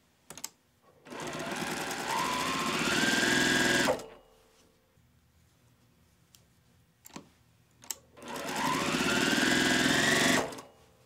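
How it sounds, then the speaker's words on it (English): A sewing machine stitches quilt block rows in two long, loud, close runs, its motor whirring and rising in speed, with a few clicks and taps in the quiet gap between the runs. "we're going to sew down the last section and our rows will be complete."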